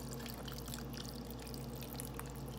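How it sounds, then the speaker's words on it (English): Water pours steadily into a Rapid Ramen cooker, a continuous close trickle and splash over a low hum, with no talking. "Fill it up with water to the line that's in there."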